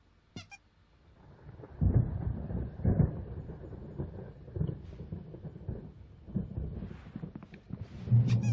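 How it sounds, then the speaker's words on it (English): A thunderstorm in the Alan Wake video game: low, rolling thunder rumbles build and swell through the stretch, with heavier bursts near the start and end. "There's a storm coming. Oh, what a storm."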